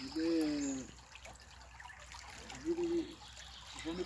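A small stream trickles during gold panning, a quiet, steady babble of water with a few louder gurgling swells and no talking.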